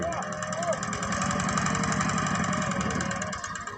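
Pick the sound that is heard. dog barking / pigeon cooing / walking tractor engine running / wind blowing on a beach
walking tractor engine running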